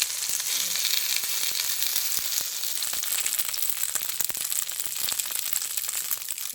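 Bread stuffed with filling and coated in sesame seeds frying in hot oil, a steady, close, dense sizzle with scattered crackles and pops throughout, no voices.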